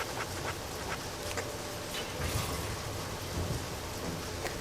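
Rain in Deadly Premonition falls on a rainy night as a dense, steady hiss with low rumbling swells, loud and continuous with no talking.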